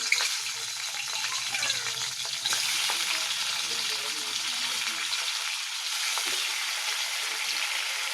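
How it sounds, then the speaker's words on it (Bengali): Steady, busy sizzling of fresh fish frying lightly in hot oil in a kadai, a continuous crackling hiss with occasional pops, close and fairly constant throughout. "কড়াতে তেলটা গরম হয়ে গেছে তাহলে মাছগুলো দিয়ে দিই"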